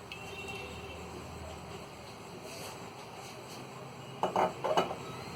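A pan set down for shallow-frying Peshawari chapli kabab gives a couple of short metallic clanks near the end over a steady background hiss, with no distinct pouring sound standing out.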